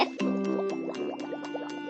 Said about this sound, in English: Popping bubbles is so much fun